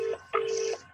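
A telephone tone for an incoming call plays as two steady electronic beeps, one short and one longer, loud and close, with no voices over it.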